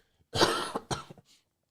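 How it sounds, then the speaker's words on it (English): A close, harsh cough burst followed by a second shorter cough, then a faint breath, with silence around them. "Sorry for the coughing."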